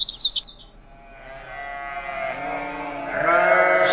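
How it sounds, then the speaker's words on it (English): A sheep bleats in a long, wavering baa that rises and swells near the end, close and clear, preceded by a brief high chirp and no talk. "sheep"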